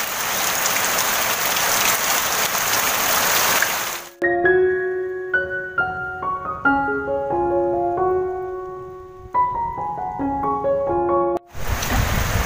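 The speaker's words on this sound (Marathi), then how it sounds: "समोर काय दिसत पण नाही, इतका असा पाऊस आहे हा" Heavy monsoon rain pours in the Konkan in a loud, hissing wash. It cuts off after about four seconds while a plucked, melodic tune plays, then the downpour returns at the end.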